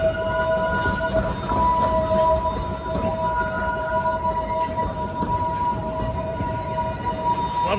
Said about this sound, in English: Love a good train.